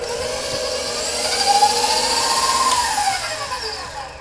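Electric stand mixer creaming butter and sugar for gingerbread cookie dough, a steady whirring motor hum with a rising and falling whine, close and continuous with no talking.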